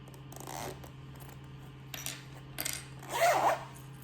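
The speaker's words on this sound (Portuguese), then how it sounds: "Sai com o zíper e volta novamente." A zipper is drawn along a fabric double pencil case in a few quick, close zips with short pauses between them, the longest pull near the end, over a steady low electrical hum.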